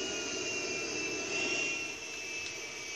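Military jet engine in a video game, a loud continuous roar with a high whine held throughout, dipping slightly near the end.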